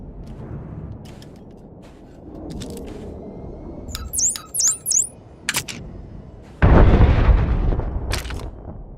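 A large in-game explosion destroys a shipment in SWTOR, Star Wars: The Old Republic, on Ord Mantell: a loud, sudden broadband blast that roars on for a couple of seconds, following scattered effects and brief electronic chirps.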